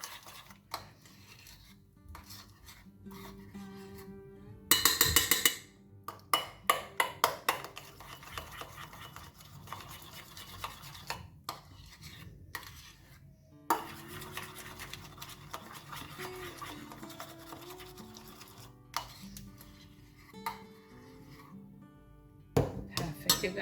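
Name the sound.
stirring whipped chocolate candle wax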